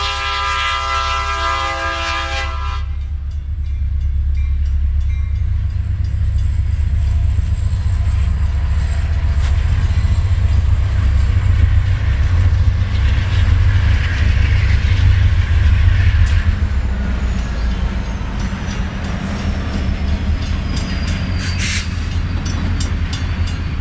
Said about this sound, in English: Another eastbound TOFC pulls out after a crew change.